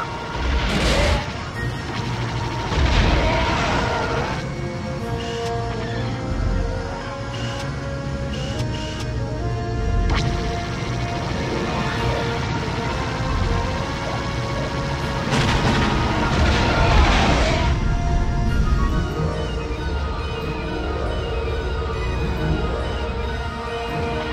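Heavy blaster and cannon fire with booming explosions in the Star Wars Rogue Squadron II video game, dense crashing bursts layered over a continuous roar, loud and close throughout.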